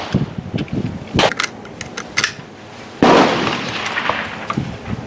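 Rifle shots fired at a target on a bench-rest range with a Ruger 10/22, Savage MKII or custom bench rest rifle: a few sharp, close cracks spaced apart, then a longer burst of noisy rumble.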